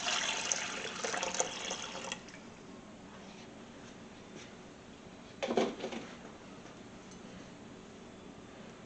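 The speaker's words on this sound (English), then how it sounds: "Now I want to add our milk." Milk is poured into a mixing bowl of yeast for sourdough bread, a soft close splashing trickle that fades to a quiet hiss, with one brief louder slosh near the end.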